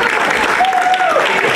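Brief audience applause at a ball in Boxmeer, loud clapping from a crowd with a faint whistle-like tone sliding through the middle, lasting under two seconds.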